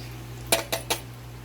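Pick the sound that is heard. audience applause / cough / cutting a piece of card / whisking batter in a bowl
whisking batter in a bowl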